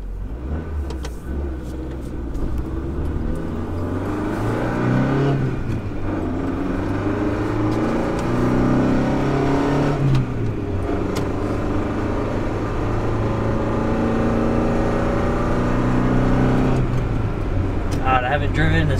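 A right-hand-drive Honda Civic wagon, rusty from sitting outside, drives with a steady engine rumble that rises and falls as it revs through gears over nearly twenty seconds, loud and close from inside the car.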